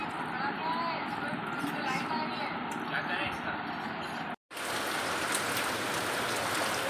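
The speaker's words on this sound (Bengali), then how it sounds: "এখন আবার অঝোরে বৃষ্টি নামলো" A heavy evening downpour during the Puja festival hisses as a dense, steady wash of rain with one momentary dropout midway, loud and close throughout.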